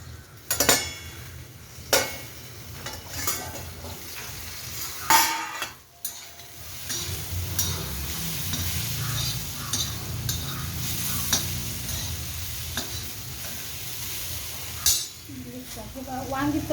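Stuffed eggplants and masala-stuffed bitter gourds cook in a pan, giving a steady sizzle broken by occasional clinks and scrapes of a utensil against the pan.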